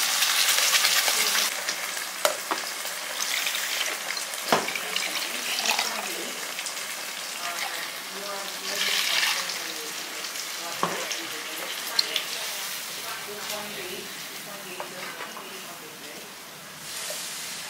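Ground masala paste for kurma sizzling and frying in a pan, a continuous close hiss broken by a few stirring clinks and scrapes, with no talk.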